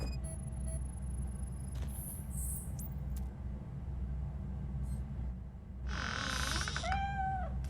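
A cat in the RoboCop: Rogue City video game gives a clear meow near the end, following a few faint chirps over a steady low ambient hum.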